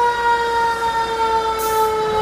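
A fire engine siren, Live Oak Engine 518, wails steadily through a street festival parade, a loud sustained tone with a brief hiss of crowd or air noise near the end.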